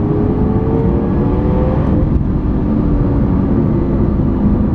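A Lamborghini Aventador drives past with a steady, loud engine drone and whirring road roar, holding nearly constant and close throughout, with a slight dip midway.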